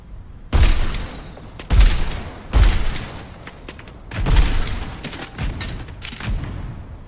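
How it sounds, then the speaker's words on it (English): Junkrat's grenade launcher fires in Overwatch 2 with a weapon skin, a series of about five loud, punchy blasts with crackling firework-like tails, spaced a second or so apart, no speech. "Junkrat's bombs have this whistling effect when you shoot them, kind of like fireworks in a way"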